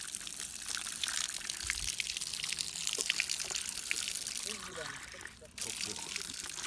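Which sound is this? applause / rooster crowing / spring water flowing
spring water flowing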